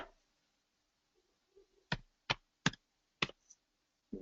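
Computer keyboard typing: five sharp separate keystrokes spaced roughly a third of a second apart, preceded by a few faint soft taps, in a quiet room.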